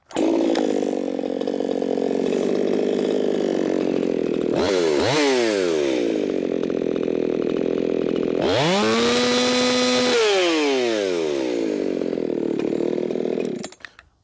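A chainsaw runs loud and close at full throttle for a speed check, its engine note holding steady with two sharp revving surges rising and falling in pitch before it cuts off.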